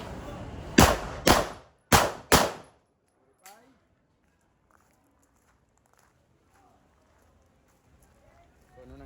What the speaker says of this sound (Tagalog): Na pumuputok tayo na mabilis from the holster.